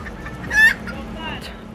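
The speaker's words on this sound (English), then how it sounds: "That guy got a chicken in the back of there." A live chicken carried in the back of a vehicle at an outdoor market gives a single loud cluck near the start, followed by softer murmuring and faint background noise.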